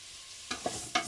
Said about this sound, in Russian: морковку и лук я сейчас обжарю немножечко, там минут 5. И закину туда уже нарезанную кусочками курочку.